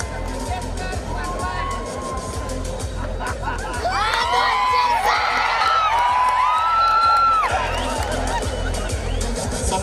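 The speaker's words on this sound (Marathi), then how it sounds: "जोरदार टाळ्या वाजवा" A crowd at a state-level bodybuilding competition cheers and whoops in a large hall, with loud, sustained hubbub and claps. The noise builds toward the second half, and voices carry over it.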